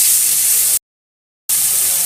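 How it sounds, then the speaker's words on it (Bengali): Small fish, some of them sea fish, coated in turmeric and salt, frying in hot oil in a frying pan: a steady, bright sizzling hiss that cuts out abruptly into silence, then resumes just as loud. "মাছগুলোকে একটু ভেজে নেব।"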